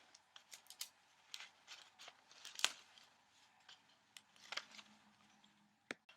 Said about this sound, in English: And then I'm going to tape the bottom together.